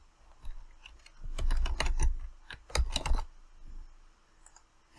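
Typing on a computer keyboard, a quick burst of close clicking keystrokes that rises to a busy flurry in the middle before trailing off to a few scattered taps, with no voices.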